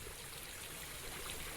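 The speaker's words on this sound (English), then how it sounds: "That's the back of the waterfall" Garden waterfall spilling behind a pond in a tropical jungle garden, a steady close rushing of falling water that fills the short stretch without pause.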